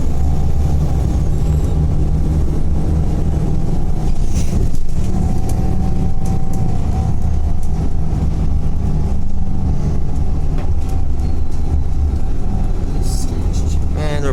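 TransBunbury route 827 bus engine heard from inside while riding, a loud continuous drone with road rumble and occasional rattles throughout.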